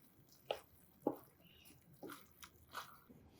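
Snow peas being stirred through risotto in a pan, giving a few soft, wet, squelching scrapes spaced irregularly, quiet and close.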